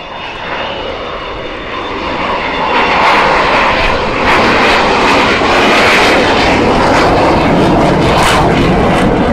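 An Avro Vulcan XH558 bomber makes a flypast with its undercarriage down, and a loud jet roar swells and holds steady as it passes close by, with no voices over it.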